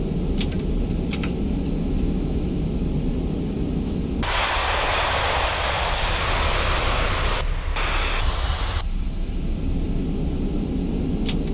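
Simulated jet airliner engines roar loudly in reverse thrust after landing, a broad rushing surge that swells for several seconds and then cuts off, preceded by a few keyboard taps.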